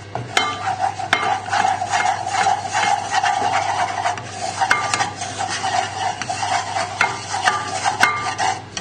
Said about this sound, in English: just stir this in